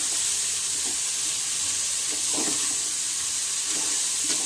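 Beetroot palya frying in a pan, an even close hiss of sizzling with occasional soft stirring scrapes, continuous and without speech.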